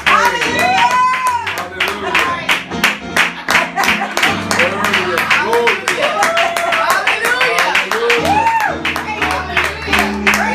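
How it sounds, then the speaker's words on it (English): Church congregation clapping hands in steady rhythm during worship, loud and close, with voices talking and calling out over the claps throughout. "Clap your hands and open your"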